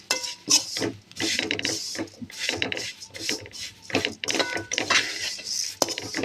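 Flattened rice (aval) with cardamom being dry-roasted and stirred in a pan over low heat, giving repeated close scraping and rustling strokes of a spoon against the pan in an uneven rhythm.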